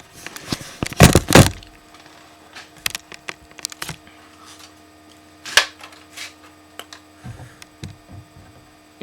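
A single Nerf Titan foam rocket blaster fires after ten pumps in a home studio, giving a sharp loud burst and whoosh around one second, followed by scattered thuds and clatter in a quiet room with steady electrical hum.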